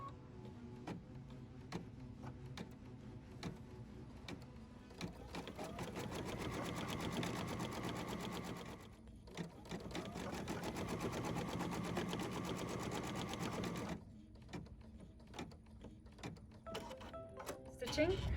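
An embroidery machine stitches placement lines for the toes of a pet stocking, giving a steady quiet mechanical whir with rapid ticking that pauses briefly and then stops, with faint voices.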